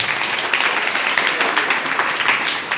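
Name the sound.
school audience applause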